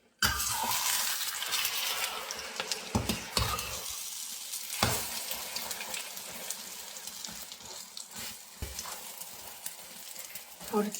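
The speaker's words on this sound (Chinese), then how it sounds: "我再煎盘鸡蛋" Eggs fry in a pan of oil in a rural home kitchen, a steady close sizzle broken by sharp scrapes and clatters of a spatula being stirred.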